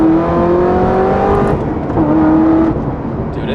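A car in first gear revs hard up to 3,500 RPM, a loud, close engine note climbing steadily, dipping briefly at a shift, then climbing again. Steady road roar runs underneath.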